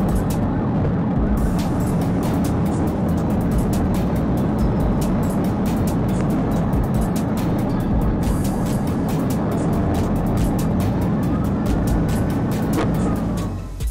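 A police cruiser speeding down Interstate 44 in a high-speed pursuit gives a loud, continuous roar of engine and road noise throughout, with faint scattered clicks on top.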